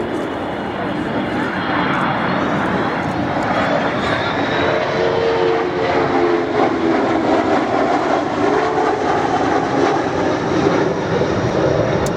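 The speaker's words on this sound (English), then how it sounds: "With the refueling boom extended for a single pass, the KC-135R" Boeing KC-135R tanker making a single flypast at an airshow with its refueling boom extended, a loud continuous jet roar that swells and sustains throughout, with some talk faintly underneath.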